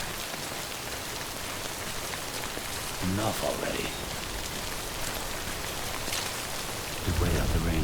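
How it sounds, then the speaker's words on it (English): Steady rain patters across a surface in the Death Stranding game world, a constant broadband wash that runs the whole time, with a voice cutting in twice over it. "Just wait out the rain over there."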